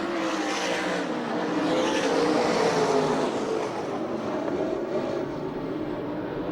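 USAC National and CRA sprint cars race on a Phoenix track, a loud continuous engine roar from a pack of cars that swells and fades slightly as they pass, with no talk.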